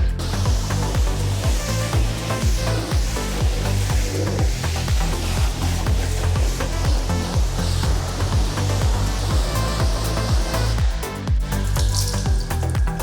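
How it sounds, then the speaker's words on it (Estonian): A blower dryer pushes warm air across a ceramic-coated Tesla Model 3, a loud continuous rushing airflow with rhythmic low pulsing throughout and no talk. "Mõtlesime, et prooviks selle fööni ära, et nüüd on keraamika autole, et selle keraamikaga peaks see föön nagu päris hea asja tegema."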